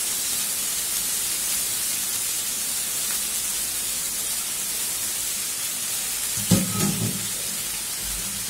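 Onion bhaji made with only salt and onion, frying in a pan as a steady, even sizzle that stays close and moderately loud, with a brief louder stir or clatter near the end and no talking.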